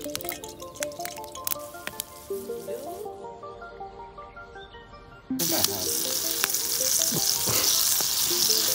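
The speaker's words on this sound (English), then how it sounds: "We're deep frying spam." Spam deep frying in hot oil at a Boundary Waters campsite, a soft bubbling that bursts into a loud, dense sizzle halfway through, with brief clinks and a voice over the start.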